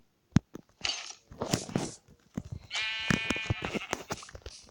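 Sheep bleating in the Minecraft video game, with several nasal, wavering bleats that overlap, the longest and loudest near the end, mixed with short clicks and game noises and no talking.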